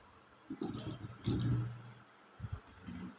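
Java plums being washed in water, soft sloshing and dripping splashes in a few short bursts, close and fairly quiet.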